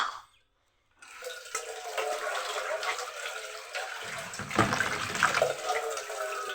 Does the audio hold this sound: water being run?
yes